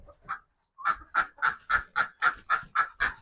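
Ducks at a park in Jaffna quack in a steady series, about nine nasal calls in even rhythm after a brief pause, fairly close.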